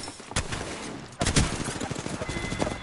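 Rapid gunfire from a video game, a short burst followed by a longer sustained rattle of automatic shots, loud and close.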